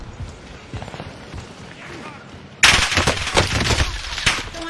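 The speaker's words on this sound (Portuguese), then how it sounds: "Estão atirando em mim" Video game gunfire breaking out suddenly midway, rapid loud bursts of shots and impacts after a quieter stretch of background game noise.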